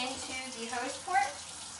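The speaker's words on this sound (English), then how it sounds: "I'm going to pour a little bit of the lemon juice into the hose port." Lemon juice trickles into the hose port of a hookah, a soft liquid pouring and gurgling that swells briefly near the end, fairly quiet and close.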